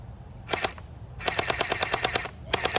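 A Pixncous gel ball blaster toy gun fires outdoors. A short burst is followed by a longer rapid string of sharp, evenly spaced pops, then a final quick burst, all close and loud with no talking.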